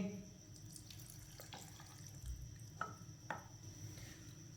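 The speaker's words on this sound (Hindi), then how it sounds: "पानी डाल लेंगे।" Quiet running water from a sink tap while water is added to rice for kheer, a steady soft flow with a few light clinks and knocks, faint and distant.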